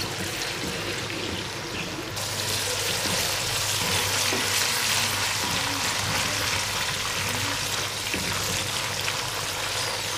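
Garlic ginger paste sizzles and fries in ghee in a karahi, a steady, close hiss of crackling oil with soft stirring noises throughout.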